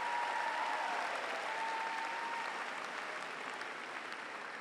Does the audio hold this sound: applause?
yes